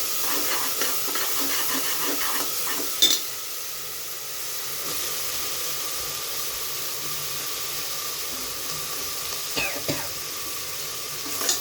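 Ginger, garlic, chili and coriander paste sautés with softened onion in a pan for vatana bhaat, a quiet steady hiss with a few soft stirring knocks.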